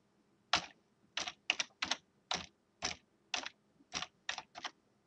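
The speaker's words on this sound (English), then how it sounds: "Type in the search" Typing on a computer keyboard, close and clear: about a dozen separate keystrokes in an uneven rhythm, some landing in quick pairs, with near silence between them.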